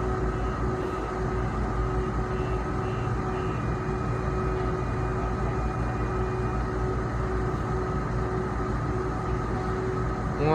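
Interior of a Calgary CTrain Siemens S200 light rail car on the Red Line, a steady loud rumble with motor whine and tonal hum throughout, no talk.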